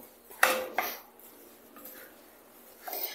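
Salsa macha ingredients, including toasted pepitas, being stirred together in a bowl with a spoon: two sharp clinks close together, then soft scraping and a final light clatter, with no voices.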